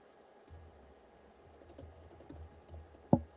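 Fingers tap a computer keyboard at close range, entering a name and email: scattered soft keystrokes with one sharper, louder key press near the end, all quiet.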